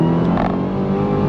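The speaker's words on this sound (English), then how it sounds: "That supercharger whine" A 2023 Dodge Challenger Black Ghost supercharged muscle car accelerates, its loud steady engine roar carrying a sustained high supercharger whine for a brief moment, with no talking.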